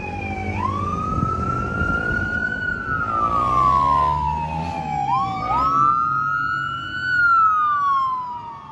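A loud wailing ambulance siren rises and falls in long sweeping tones, with a fire department siren joining partway through over steady traffic rumble on a Philadelphia street.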